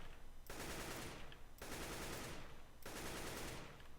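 Three sustained bursts of AK-47 automatic fire in Counter-Strike: Global Offensive, each roughly a second long and separated by short pauses, loud and close with dense rapid reports.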